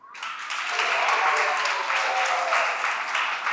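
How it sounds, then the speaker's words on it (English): An audience at a school debate competition applauds with dense, steady hand clapping that carries on at an even level for the whole stretch, with no talking over it. "I observed that the intensity of that hand clap has reduced."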